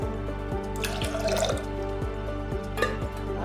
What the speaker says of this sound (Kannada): ನೀರು 2 ರಿಂದ 3 ಕಪ್ ಹಾಕೊಂಡ್ಬಿಡೋಣ.